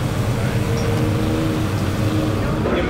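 A race car's engine at the 24 Hours of LeMons, a steady loud drone with rough mechanical texture and no clear revving, close by for the full few seconds.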